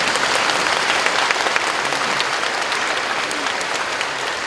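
A church congregation claps together, a thick, continuous burst of many hands with sharp individual claps poking through, loud and steady throughout.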